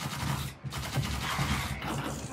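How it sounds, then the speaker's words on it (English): Rapid bursts of cannon fire in the VR game EVE: Gunjack crackle continuously, dense and loud, with brief gaps between volleys. "Your cannons sound great, reloading sounds nice"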